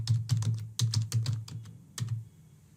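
Fingers tap a computer keyboard in short irregular bursts of close, crisp keystrokes while a password is entered, with brief pauses between runs and a low steady hum underneath.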